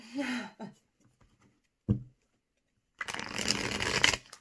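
A deck of tarot cards being shuffled, a few soft taps and one short flick, then a dense riffle of cards lasting over a second, close by, with brief speech at the start.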